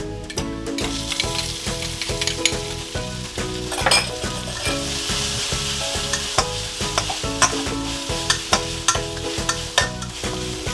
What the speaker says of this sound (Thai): เดี๋ยวเราก็จะเอาพริกใส่ลงไปนะคะ